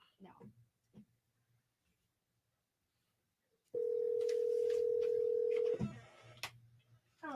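A telephone call is placed: faint handling clicks, then a steady, loud phone tone held for about two seconds before it cuts off, followed by quiet rustling and brief voices.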